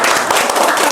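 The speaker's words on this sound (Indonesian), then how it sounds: "Tepuk tangan juga dong." Audience applause at a talk by a Bogor police traffic unit chief, a dense continuous wash of many hands clapping at steady loudness, with voices mixed in underneath.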